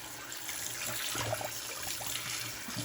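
Water sprays and trickles onto Pacific Polish Pottery dishes being rinsed clean, a soft, steady splashing stream with slight fluctuations, fairly quiet and close.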